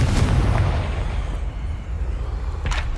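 A fiery blast spell goes off in a Harry Potter video game, a loud rumbling explosion right at the start that booms and decays into a sustained low roar, with a brief sharp burst near the end.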